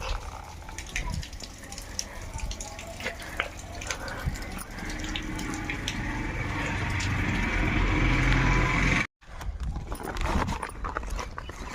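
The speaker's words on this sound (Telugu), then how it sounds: "ఇక్కడే అండి మోటార్ బంద్ చేసేది." A water pump motor runs at a house under construction, with water gushing steadily and growing louder before cutting off abruptly near the end, then resuming more faintly.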